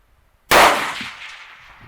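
A single sharp rifle shot from a Thompson Center Compass fired at clay targets 200 yards away outdoors, loud and close, followed by a long fading echo.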